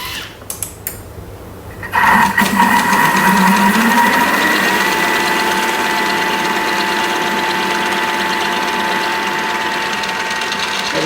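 A Thermomix spiralising zucchini runs with a steady motor whine and high-pitched hum that starts abruptly after a few light clicks and continues loudly and evenly to the end.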